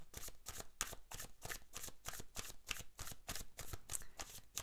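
Tarot cards shuffled by hand in quick, regular riffling bursts, about a dozen crisp flutters close to the microphone, quiet overall with no talking.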